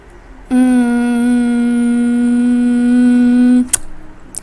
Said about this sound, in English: That's the sound of the boat.